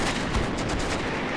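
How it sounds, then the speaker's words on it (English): 155mm artillery falling on German positions in the Combat Mission: Beyond Overlord video game near Carentan, a dense, continuous rumble of overlapping blasts and explosions, loud and close, with no speech. "And finally, the big artillery, 155mm, started falling on the Germans."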